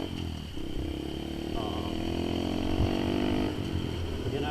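A 2022 Honda Grom motorcycle fitted with an aftermarket intake and exhaust drones steadily while riding, its engine note close and moderately loud, rising briefly partway through with wind noise and a voice talking underneath.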